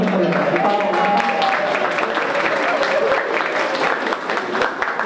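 Sustained audience applause fills a hall at a forum of vice-presidential candidates for Costa Rica's 2018 elections, a steady dense wash of clapping that holds loud throughout.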